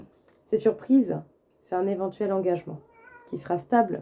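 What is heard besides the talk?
cat meowing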